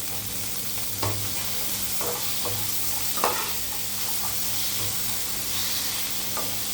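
Dried red chillies and rock salt sauté in a hot pan for a chutney, a continuous sizzle and hiss broken by a few sharp scraping stirs, close and without voices.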